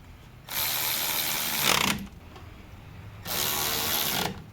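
A ratchet or power tool drives brake caliper bolts on a Ford Transit 350HD van in two loud bursts of rapid clicking and whirring, about a second each, separated by a short pause, with no talk.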